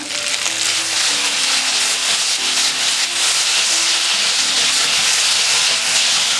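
Chopped tomatoes and shallots sizzle in a hot pan for a mudakathan keerai chutney, a loud, dense, continuous hiss and crackle close up, with faint tonal sounds underneath and no talking.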